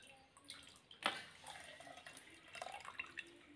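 Water strains and drips out of freshly made homemade paneer, a soft, close trickle with a few brief splashes and patters, quiet and alone.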